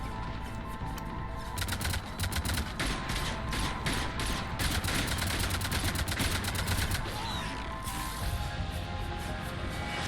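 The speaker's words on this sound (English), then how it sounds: "Cannons engaging." Cannons fire in the Mass Effect 3 battle to take back Omega, a dense, loud barrage of rapid rattling blasts over heavy continuous combat noise.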